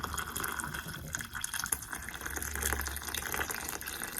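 Warm water runs steadily from a tap into a kitchen container, a soft, continuous splashing flow heard close throughout with no voices.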